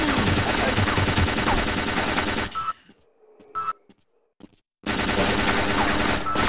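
A Half-Life turret fires in dense, rapid automatic bursts, loud and close, stopping for about two seconds of near quiet with faint clicks before the gunfire resumes just as heavily.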